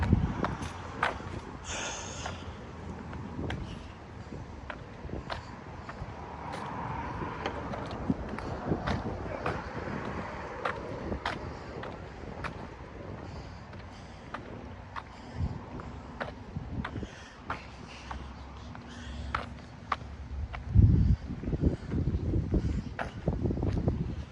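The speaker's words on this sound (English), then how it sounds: "Nice wind." Wind gusts across a tornado-damaged area in Lansing after an EF1 storm, a steady rough broadband rush with buffeting rumble and scattered clicks and knocks, growing louder near the end.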